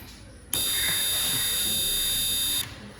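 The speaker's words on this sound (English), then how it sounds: "The working model of this fire alarm." A homemade DIY fire alarm model's electronic buzzer sounds alone as a loud, steady, shrill tone lasting about two seconds before cutting off.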